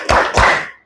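A classroom group performs the rhythmic 'tepuk fokus' clap, two close, loud hand claps in quick succession with a short ringing tail.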